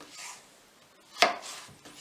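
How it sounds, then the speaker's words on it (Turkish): A single sharp knife cut through cucumber on a board while preparing sushi, one crisp slice standing out above quiet kitchen background. "Arkadaşlar salatalıklarımızı keseceğiz aynı şekilde."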